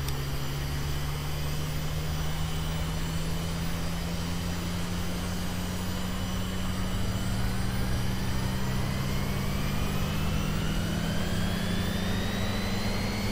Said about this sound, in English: When left engine RPM is a needle's width out of the yellow band, right engine start switch on.